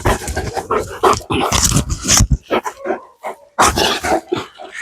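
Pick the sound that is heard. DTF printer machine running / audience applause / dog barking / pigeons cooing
dog barking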